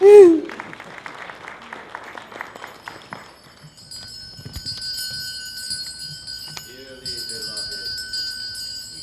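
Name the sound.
wedding bells ringing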